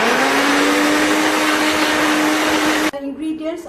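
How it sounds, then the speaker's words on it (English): Kitchen blender finely puréeing spice ingredients for Nyonya-style steamed fish, a loud steady high-pitched motor whir that cuts off abruptly near the end, leaving quieter kitchen noise. "Blend it finely."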